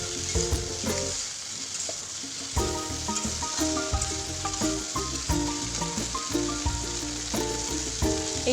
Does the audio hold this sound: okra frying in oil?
yes